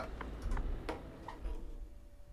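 Steady clicking of truck hazard indicators in Euro Truck Simulator 2, several sharp ticks at an even pace over a low engine hum.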